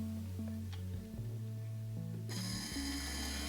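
A DC motor powered from a bench power supply spins with a steady tonal whine and low hum whose pitch shifts briefly; a brighter, hissy high layer joins over the final second.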